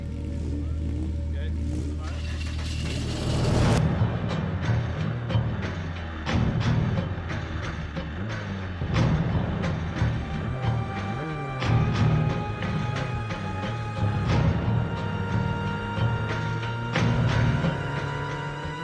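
Formula Vee single-seater race car pulling away at a race start, engine revving loudly and rising through repeated surges with thumps, a continuous close roar throughout.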